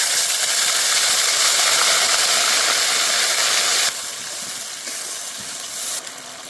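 Loud, steady sizzling and hissing as water used to rinse ginger, cumin and dried red chilli paste is poured into hot oil in a pan; the hiss drops suddenly partway through and carries on more softly.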